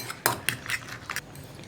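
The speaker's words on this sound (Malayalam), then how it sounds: "ഫോർക്ക് കൊണ്ട് മിക്സ് ചെയ്യുകയാണെങ്കിൽ മുട്ട നന്നായിട്ട് പതഞ്ഞ് വരും" A fork rapidly clicks and scrapes against a bowl while whisking eggs for a Kerala egg thoran, giving an uneven series of close, bright taps over a faint background hiss.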